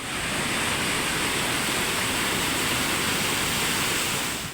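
Floodwater from a swollen river pours across a road during heavy rain, a steady dense rushing roar that fills the whole clip evenly with no voices.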